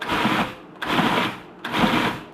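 A food processor pulses in three short, close whirring bursts with brief gaps as melted butter is added to the shredding mixture.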